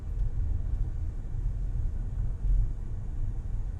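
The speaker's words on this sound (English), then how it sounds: "I'm stuck in traffic." Low, steady road rumble inside a car stuck in slow Austin traffic, a continuous engine-and-tyre drone with a slight swell near the end and no voices.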